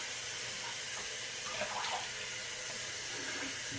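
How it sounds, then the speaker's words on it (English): Tap water runs steadily into a sink during a shave rinse, a continuous broadband hiss with faint splashing as hands move under the stream, no talking. "Let me rinse off a little bit."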